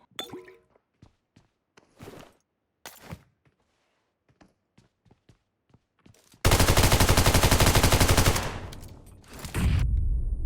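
Sustained automatic FAMAS rifle fire in PUBG Mobile, a loud continuous burst of rapid shots lasting about three seconds, then a brief dip and another burst, after scattered sharp single impacts and clanks.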